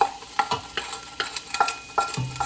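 Onions browning in olive oil in a pan, a soft sizzle under repeated scraping stirs of a utensil against the pan, close and fairly quiet, a few strokes per second.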